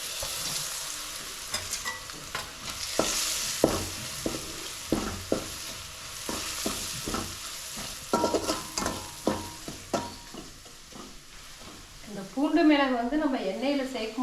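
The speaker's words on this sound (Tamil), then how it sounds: "இதையும் வந்து இப்போ எண்ணெயில் சேர்த்து நல்லா வந்து எண்ணெயிலே வதக்கி விட்டுடலாம்" Crushed garlic, black pepper and cumin sauté in hot oil for tomato rasam, giving a steady close sizzle with repeated sharp stirring clicks; a voice briefly joins near the end.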